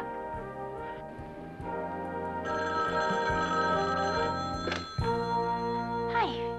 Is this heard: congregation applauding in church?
no